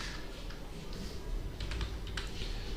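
Keys tapped on a computer keyboard during a Python coding lesson, a short quiet burst of clicks clustered near the end over faint room hiss.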